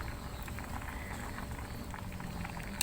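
Cleaned chicken gizzards simmering in a pot of water, a soft, steady bubbling and gentle burble at low level, with a faint click at the very end.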